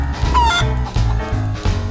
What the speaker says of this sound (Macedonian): Пилешко.